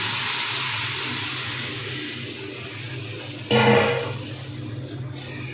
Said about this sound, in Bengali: এখন আমি এর মধ্যে জল দিয়ে দিচ্ছি।